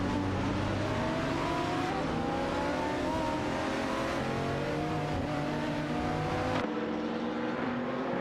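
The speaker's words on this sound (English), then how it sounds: "The battle between the Lamborghini Gallardo GT3 and the Nissan 350Z" Lamborghini Gallardo GT3 and Nissan 350Z GT300 race cars in a racing video game, engines droning and revving steadily together, with shifting pitch as they battle closely, then an abrupt cut near the end.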